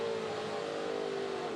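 A touring race car at Queensland Raceway blips its engine on a downshift into first gear, a loud, steady, high-pitched engine note that holds throughout without pause.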